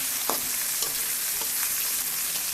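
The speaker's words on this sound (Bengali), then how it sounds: "টমেটো সব কিছু আমি ভেজে নিচ্ছি সরিষার তেলে সম্বারা ফোড়ন দিয়ে দিয়েছি জিরা তেজপাতা কাঁচামরিচ" Tomatoes fry in mustard oil with cumin, bay leaf and green chili, a steady close sizzle with a few sharp spatula scrapes and taps against the pan, no voices.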